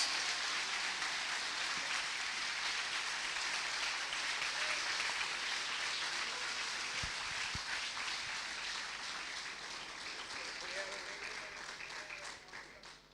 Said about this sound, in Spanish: Dele un aplauso más fuerte.